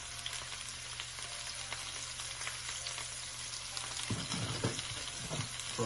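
Food hits hot oil in a pan and fries with a steady, dense sizzle throughout. Stirring clatter joins toward the end, and no one speaks.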